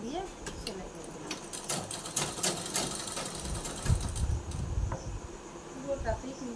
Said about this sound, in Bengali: এইবার আমি এই পটিটাকে এইখান দিয়ে এরকম করে মুড়িয়ে মুড়িয়ে সেলাই করবো